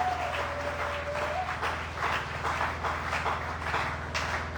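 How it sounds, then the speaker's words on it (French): A church congregation at a Sunday service in Kinshasa applauds steadily, a dense, continuous clapping from a crowd in a reverberant hall, with a faint sung or sustained tone at the start. "Est-ce qu'il y a un enfant de Dieu qui peut acclamer pour l'œuvre de la croix?"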